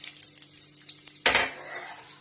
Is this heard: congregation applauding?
no